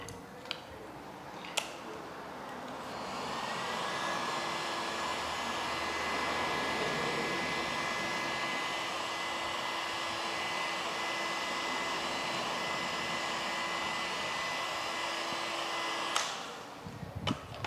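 Heat gun blowing a steady hot-air rush onto a dented car panel during paintless dent repair, a continuous whirring hiss running alone for about thirteen seconds with a few small clicks at the start and end.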